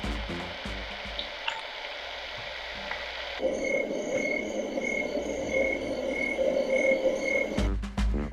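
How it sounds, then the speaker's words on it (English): Sound machine in a New Orleans hotel room playing nature sounds: a steady chorus of croaking frogs over a soft watery hiss that swells louder partway through, continuous and without talk. "And they had a sound machine."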